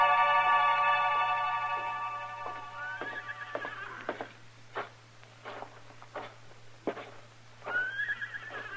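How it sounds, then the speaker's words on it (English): A horse whinnies loudly at first, then softer snorts and short calls follow over a quiet background, ending in another neigh. "Where did you leave your horses, Jesse?"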